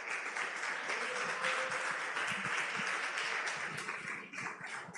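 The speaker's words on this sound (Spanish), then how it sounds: "Denle un aplauso a Dios." Church congregation applauds during a sermon, a steady dense round of clapping from many hands, moderately distant and continuous with no talk over it.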